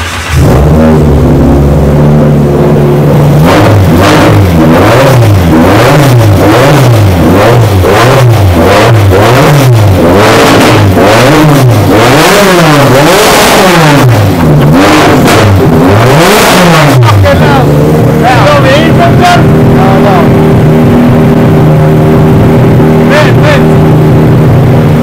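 A loud Ford Sierra Cosworth race car engine idles, then revs repeatedly in sharp rising and falling bursts before settling back to a steady, rumbling idle.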